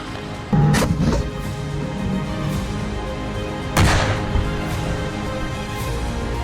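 A K1 tank fires its main gun while on the move: two heavy booming blasts, the first near half a second and the second near four seconds, ring out over a steady engine rumble.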